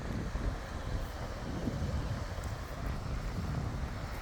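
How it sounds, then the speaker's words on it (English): Gusty wind at a riverside boat launch near a bridge and hatchery, a broad rushing roar buffeting the microphone steadily throughout, with no speech. "It's a bit windy today."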